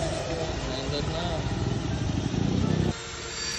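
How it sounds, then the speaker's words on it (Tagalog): A Yamaha Aerox V2 scooter engine fitted with new cams idles steadily after starting, a low, even putter, close by, then the pitch drops slightly near the end. "Unang pihit pa lang ay bumukas na agad ang ating motor at mukhang wala namang problema sa tunog ng kanyang makina."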